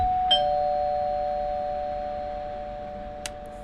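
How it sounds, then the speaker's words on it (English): A soft electronic ding-dong chime signals the start of an exercise, a sustained two-tone tone lingering for several seconds, followed by a faint click-like tick near the end. "this ding dong means simply that we are beginning a exercise"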